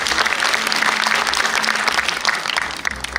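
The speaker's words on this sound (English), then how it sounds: "So please give a big round of applause to Carter." Audience applause for a speaker at the IFFI 2023 film festival session, a dense, steady wash of clapping from a crowd that holds strong for the whole moment.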